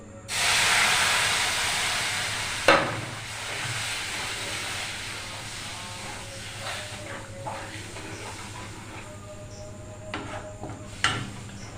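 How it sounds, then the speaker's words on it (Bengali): A bowl of milk goes into a hot pan of fried mango filling. A loud steaming hiss bursts out, then settles into a quieter simmer with occasional soft clinks and scrapes. "এবার আমি দুধ দিয়ে দিচ্ছি,"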